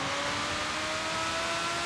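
Game car in Forza Horizon 5 pulling away from a standstill with no wheelspin and traction control off, a steady engine drone with rising tonal whine, held at constant loudness throughout without voices.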